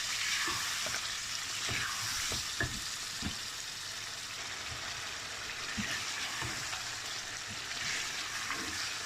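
Tomatoes fry in oil in a pot for murgh cholay, giving a steady close sizzle with occasional stirring knocks underneath.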